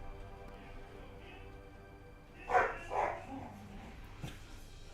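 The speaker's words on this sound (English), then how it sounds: "So if you can hear that barking, that's what it is." A couple of sharp dog barks close by from dogs play fighting, separated by a short pause, over a quiet background with faint yips.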